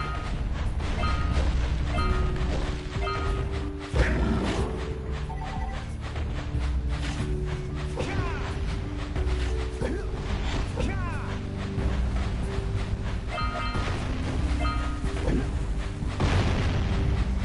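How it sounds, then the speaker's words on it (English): Bombs explode in Jak and Daxter in a series of booming blasts over continuous game music and effects, with scattered louder thumps such as one around four seconds in. "take advantage of these guys randomly launching the bombs at us"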